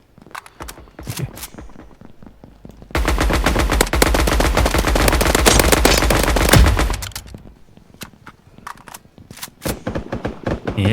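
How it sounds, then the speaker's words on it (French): Rapid bursts of gunfire from a battle royale video game crack loudly and close, with scattered single shots, then a dense sustained automatic volley lasting several seconds before tapering into sparse shots. "Je tire sur le mauvais."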